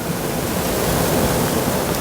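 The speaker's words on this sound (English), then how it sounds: "So I'm going to add this now to my beef, carrots, onions, and bacon." Flour-thickened gravy mixture pours into a pot of beef, carrots, onions and bacon for an Aberdeen beef pie, a steady close, rushing liquid splash that continues evenly throughout.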